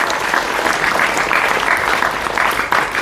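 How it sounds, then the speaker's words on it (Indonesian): A large gathering at a National Santri Day religious event applauds for santri and Islamic boarding schools, a loud, full roll of many hands clapping that holds steady from start to finish. "Tepuk tangan untuk santri dan pesantren."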